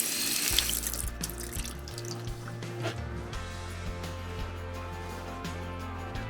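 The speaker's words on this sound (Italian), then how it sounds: "nonostante il gelo, l'acqua dei lavandini funziona" Water running from a sink tap at a riverside camper area in freezing weather: a steady close splashing stream with droplet patter over a low hum, continuous throughout.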